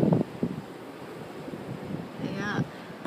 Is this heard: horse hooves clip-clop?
no